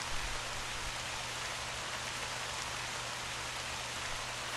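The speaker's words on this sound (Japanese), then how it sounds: "あらあら、また降ってきちゃったわね。" Rain falls steadily in the game Torawere no Palma, a dense, loud, even hiss of drops with no voices.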